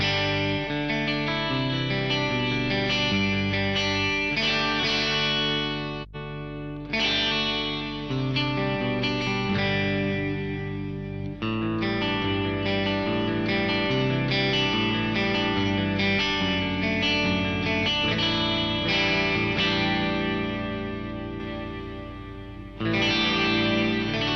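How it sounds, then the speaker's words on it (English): Electric guitar run through reverb patch number 1 of a Zoom 9030 effects unit on a clean-ish tone, sustained chords and notes ringing continuously and loudly with a couple of brief breaks. "maybe let's try a reverb. I'll try reverb number 1,"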